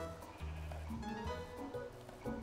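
Sheep in the Minecraft video game bleat in a few wavering calls over busy, layered game background music.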